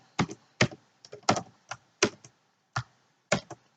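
Scattered keystrokes tap on a computer keyboard while entering code, irregular clicks in small clusters, close and clear with no talking.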